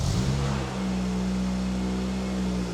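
A Honda Jazz engine with a modified exhaust and single-skinned tip blips briefly, then settles into a steady, loud, close droning hum with a strong low tone and no talk.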